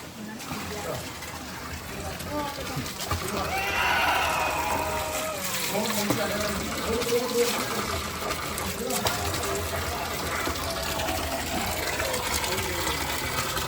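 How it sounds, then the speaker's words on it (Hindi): Water from a sacred spring at Baba Jitto ji's house in Karr Kot trickles and splashes in a steady, close stream, swelling slightly partway through, with voices mixed in over it. "तो अभी तक देख सकते हो ये पानी यहाँ अभी तक आ रहा है।"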